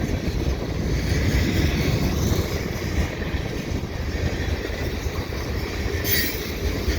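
A KCS general merchandise freight train rolls past close by on a windy day, a loud, continuous rumble and roar of wheels on rail with faint squealing throughout, and no voices.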